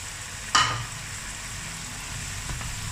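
Finely chopped spinach dropped into hot masala in a pan for Punjabi turnip curry, a sharp burst of sizzling as it lands, settling into steady frying with a few light stirring scrapes.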